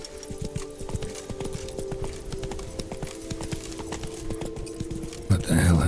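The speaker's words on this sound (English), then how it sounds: "Whoa there, Roach." A horse gallops in The Witcher 3: Blood and Wine with a steady, rapid clip-clop of hooves. The hoofbeats continue under ambient game sound, and a louder burst of noise comes at the end.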